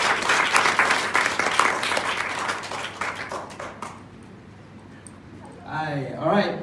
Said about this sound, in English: can we have a big round of applause for Peiting?